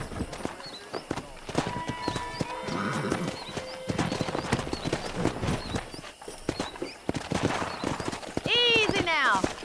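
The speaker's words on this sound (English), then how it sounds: "That ranch hand said there's a pack of wild horses nearby" Wild horses' hooves clop and patter amid a busy outdoor scene in the video game Red Dead Redemption, with a voice speaking and a high, wavering whinny near the end.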